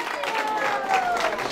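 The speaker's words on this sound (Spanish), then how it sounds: "Un fuerte aplauso" Crowd applause for the winners of a carnival costume contest, a short burst of clapping mixed with cheering voices and a background tone.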